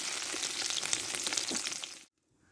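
Drumstick and potato pieces sauté in hot oil with a dense, steady sizzle and faint stirring scrapes, loud and close, then cut off abruptly into near silence just after two seconds.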